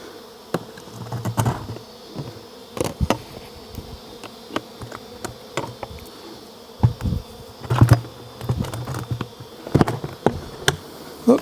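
Bees thrum inside a surviving hive comb in a condemned building, a faint, continuous insect buzz broken by sharp knocks and clatters of handling, no voices.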